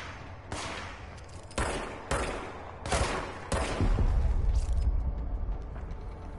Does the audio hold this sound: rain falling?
no